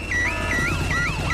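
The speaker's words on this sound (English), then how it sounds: "Daddy Pig has set off the noisy house alarm" An electronic alarm wails loudly and steadily, its pitch rising and falling in repeated sweeping cycles.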